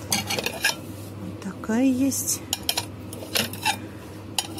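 Ceramic plates and bowls from a budget housewares shop clink and knock together as they are handled, a run of bright close clatters with a brief scrape, under short bits of speech in Russian.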